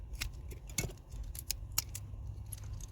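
Scissors snip through tape wrapped on a Ford plug shell at a junkyard, a few sharp close cuts and small rustles in quick irregular succession.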